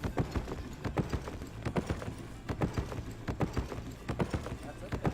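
Horse hooves clip-clop in the Albion Online video game, a quick, regular run of loud, close hoofbeats lasting throughout, with faint voices now and then.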